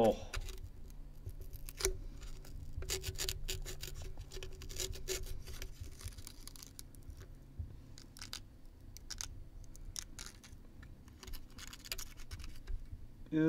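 Scissors cut open a silk cocoon with something hard inside, making quick, close snipping and scratching clicks in irregular runs under a low background hum.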